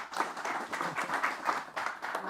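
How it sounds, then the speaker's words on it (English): An audience claps at the close of a fireside chat on engineering AI products, with steady, fairly quiet applause lasting the full stretch. "So a round of applause"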